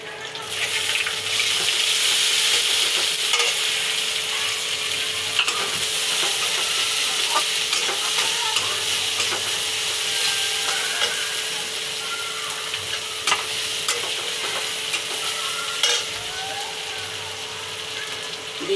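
Cumin, bay leaves, dried red chillies and onion frying in hot oil, a loud continuous sizzle with busy scraping and clicking of a spatula stirring in the pan throughout.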